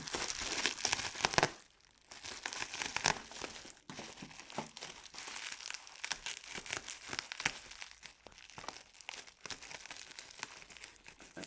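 A large parcel being opened, with continuous crinkling and crumpling of plastic and paper packaging, close and moderately loud, with a few louder tearing bursts and one brief pause.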